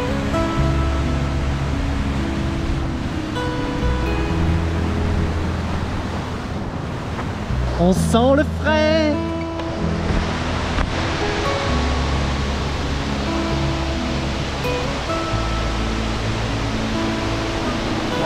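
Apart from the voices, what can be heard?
waterfall cascade in Armenia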